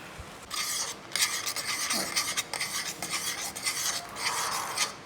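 Steady scraping and rasping of a spoon stirring thick urad dal and coconut milk porridge in a pot, continuous with small irregular strokes, close by and moderately loud.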